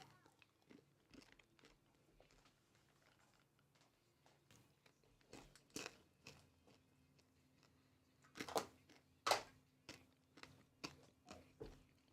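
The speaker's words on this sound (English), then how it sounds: "I was just chewing directly into the mic." Chocolate-covered coffee beans crunched and chewed right against a microphone, a series of sharp crisp bites and crunches, with louder ones toward the end, close and dry with no talking.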